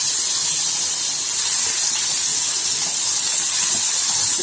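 Mustard seeds, urad dal, a broken dried red chili, garlic and onion sizzling in hot oil in a kadai, giving a loud, continuous close-up hiss that holds steady without pause.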